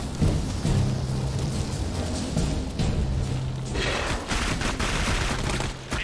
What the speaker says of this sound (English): She has an automatic pistol.